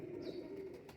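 A pet pigeon coos softly in a steady, low murmuring call that runs for about a second, close by, with no other sound over it.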